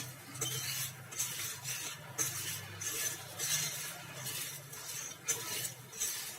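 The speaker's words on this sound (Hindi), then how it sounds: "और अब करते हैं इसको अच्छे से मिक्स दोबारा से।" Spiced potatoes for aloo tuk being stirred in oil in a pan over a full flame, giving repeated soft scraping and clinking strokes of a utensil against the pan over a steady low hum, with no talking.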